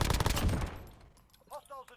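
Rapid burst of 9mm Makarov pistol gunfire in Call of Duty Modern Warfare, loud dense shots packed into the first second and then fading into quieter scattered game sounds.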